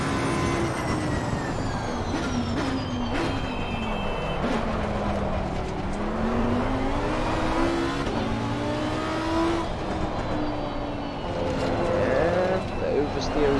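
A GT race car engine in Assetto Corsa Competizione whines and shifts pitch continuously, rising and falling through gears, with faint squeals and a voice talking over it.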